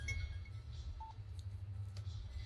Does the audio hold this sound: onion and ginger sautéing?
no